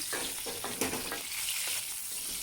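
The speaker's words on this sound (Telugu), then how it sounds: "వీటిని ఇలా ఆయిల్లోనే నిదానంగా వేయించుకోండి" Bitter gourd pieces fry slowly in oil with a continuous, fairly quiet sizzle, marked by occasional stirring scrapes and no speech.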